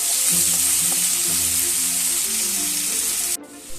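Onions fry with salt in a pan for a spicy topse fish curry, giving a loud, steady sizzle and crackle throughout with occasional stirring, cutting off abruptly near the end.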